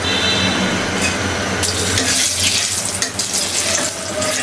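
Cumin hits hot mustard oil in a village kitchen and sizzles loudly and continuously, the crackle swelling sharply partway through and staying dense and close to the end.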